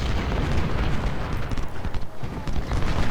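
Civil War battle in Ultimate General: Civil War, with dense crackling musket volleys and booming artillery blasts rolling together in a loud, continuous chaotic din.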